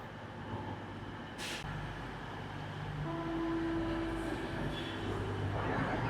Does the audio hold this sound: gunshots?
no